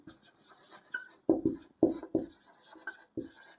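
Pen or marker writing on a board while numbers are worked out in a class on electricity, with quick scratchy strokes and short taps in an uneven rhythm, close and fairly quiet.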